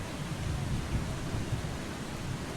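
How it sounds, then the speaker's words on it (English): A thunderstorm with heavy rain in the video game Eastshade: a dense, continuous hiss of rainfall over a deep rumbling thunder bed, loud and steady, with no talking. "The storm is so loud."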